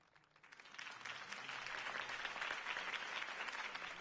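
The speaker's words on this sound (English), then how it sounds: "could have heard that applause" A video game crowd applauds after a campaign speech, the clapping swelling quickly from a faint start into a steady, dense roar of many hands that holds to the end.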